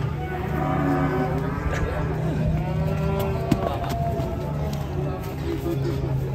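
A giant cow being unloaded from a truck moos loudly in long, drawn-out calls, close by, over a busy outdoor crowd of voices and background noise.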